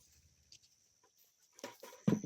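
Chickens in a garden chicken run give a few soft clucks and rustles, quiet at first, then a louder burst of fowl calls near the end.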